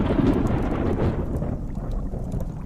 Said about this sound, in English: Suddenly there was the noise of thunder.